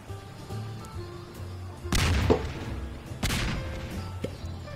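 Explosions from the Garry's Mod game mode Melon Bombers: two loud, sharp game blasts about a second and a half apart, each with a crackling decay, over a steady hum of game noise.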